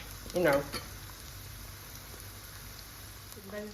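Egg frying in a pan on a home stove, a soft continuous sizzle with a brief louder burst of crackling near the start and a few spatters toward the end.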